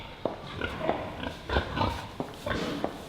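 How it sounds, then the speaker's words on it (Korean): Genome-edited pigs in a research pen grunt and snort repeatedly at moderate distance, short irregular bursts rising over a low background din. "Where we can see around us some of our genome-edited pigs."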